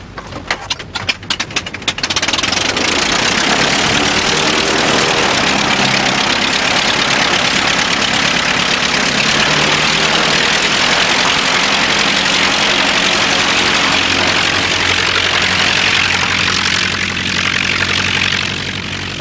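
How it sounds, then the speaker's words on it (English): A First World War aircraft engine is started: a few sputtering coughs at first, then it catches into a loud, sustained, roughly running roar with a propeller drone that holds steady and eases slightly near the end. "That engine's running a bit rough, isn't it?"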